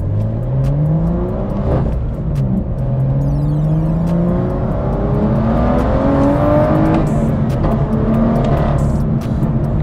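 BMW M2 with a bootmod3 stage 2 tune pulling hard, engine pitch climbing through several gears in rising sweeps with shift breaks, loud and close, no voices.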